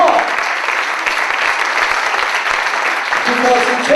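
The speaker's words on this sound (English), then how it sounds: "I want you to give yourself a round of applause" A rally crowd bursts into loud, sustained applause, many hands clapping in a thick, unbroken roar with voices mixed in.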